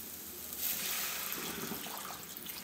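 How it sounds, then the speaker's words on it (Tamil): Water poured into a pan of softened, sautéed vegetables while cooking Maggi noodles: a steady, close splashing pour lasting a few seconds, with no talking. "இப்போ தண்ணி ஊற்றிக்கலாம்."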